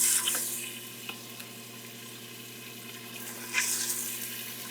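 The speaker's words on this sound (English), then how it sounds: "There we go, there's a sizzle." Steady sizzling and crackling of pork searing in a hot Instant Pot, with a few louder hissing bursts and faint scraping, no voices.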